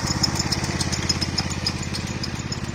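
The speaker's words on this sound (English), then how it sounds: "That's a nice tractor." Close, steady chugging of a tractor engine running in an even, rapid pulse, heard alone without talk.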